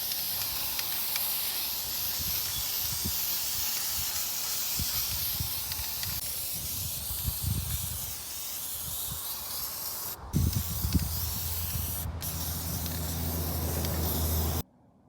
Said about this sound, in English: my roommate is finishing up the spray paint on the sides